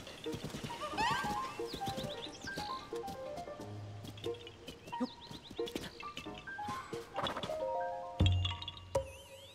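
Horse whinnying and hoofbeats at a stable by a river in the video game Zelda: Tears of the Kingdom, with repeated neighs and clopping hooves over layered game music and ambient effects, and no talking.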